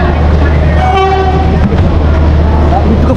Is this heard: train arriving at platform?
yes